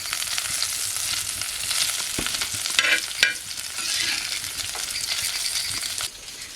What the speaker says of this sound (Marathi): दोन्ही बाजू चांगल्या पद्धतीने एकदम शेकवून घ्यायच्या. हे बघा, एक बाजू मस्त लालसर झाले, तर बाकीचे पीस पलटून घ्यायचे.